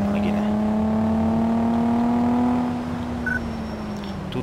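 A car engine in Car Mechanic Simulator 2014 revs steadily in first gear, a loud sustained droning whine holding a fairly constant pitch before easing slightly near the end.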